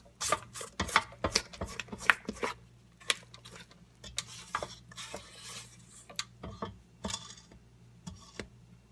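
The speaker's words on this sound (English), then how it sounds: "now I'm just going to scrape down the mixing bowl just to make sure everything gets incorporated" A utensil scrapes down a mixing bowl of chocolate peanut butter layer cake batter, making close, irregular scraping and clinking strokes against the bowl, some sharp and some softer.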